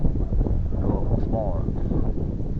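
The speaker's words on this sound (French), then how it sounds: "Là, le vent, il commence à monter." Rising wind buffets the microphone at a carp fishing spot during a heatwave, a steady low rush throughout while someone talks over it.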